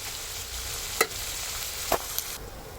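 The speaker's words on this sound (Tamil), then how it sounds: "வெங்காயம் கொஞ்சம் நல்லா வதங்கட்டும்." Onions sautéing in a pan give a steady, fairly quiet sizzle, broken by a few sharp scrapes of stirring.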